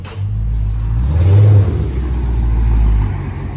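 A Scat Pack car engine revs up loudly and close by, holding a deep roar that surges twice before easing back down.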